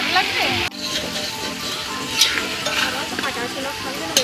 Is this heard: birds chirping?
no